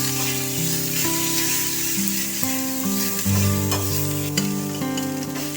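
Grated onion and garlic paste hisses loudly in hot oil for a Bengali prawn malai curry, a continuous bright sizzle with a steady background tone and occasional stirring scrapes.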